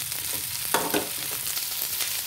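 Prawn and green chilli mixture sautéing in a hot pan, a steady close sizzle with a couple of louder stirring scrapes partway through, no voices.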